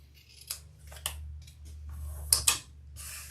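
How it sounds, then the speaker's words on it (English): Scissors snip close to the seam at the bottom corners of a fabric handbag, giving several crisp, close cuts with a double snip near the end over a quiet low hum. "I'm just trimming these bottom corners pretty close to my seam"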